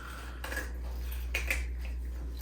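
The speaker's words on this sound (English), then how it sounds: "now you're going through with that leading edge of the knife, all the way past the ribs, down through the tail" A fillet knife slicing through a fish past the ribs toward the tail makes quiet, close scraping strokes, with two clearer bursts against a low background hum.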